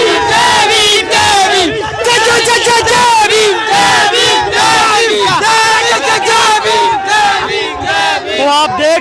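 A dense crowd at a Chandrashekhar Azad rally chants and shouts in unison, rhythmic slogans rising loud and close, with many overlapping voices sustained without pause.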